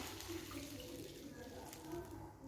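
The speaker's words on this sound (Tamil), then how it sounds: "1 கப் அளவுக்கு தண்ணி ஆட் பண்ணிக்கிறேன்" A cup of water is poured into a pan for rice flour chips, making a faint, steady running-water sound throughout.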